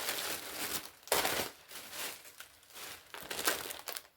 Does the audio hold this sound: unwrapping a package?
yes